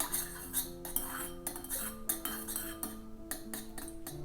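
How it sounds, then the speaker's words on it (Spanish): Soy candle wax mixed with colorant is stirred in a container, giving a quick run of close, clinking and scraping knocks, fairly faint and with no talk. "Mezclamos."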